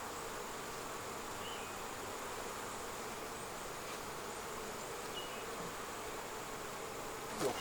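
Honey bees buzz steadily in a hive after a dead-out, a soft, continuous, fairly faint drone that holds evenly throughout with no talk.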